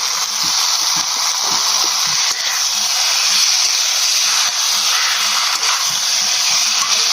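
Chopped tomatoes hit hot frying vegetables in a pan, giving a steady, loud sizzling hiss that holds throughout with faint clinks underneath; no one speaks.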